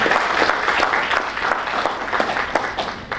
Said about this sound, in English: let's give a round of applause to Deepshika